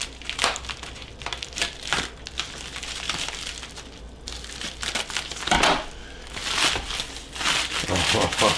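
Plastic or cellophane packaging crinkling and tearing as it is cut away from a 1975-distilled Banff single malt whisky bottle, close and crisp, in irregular bursts with a voice talking quietly alongside.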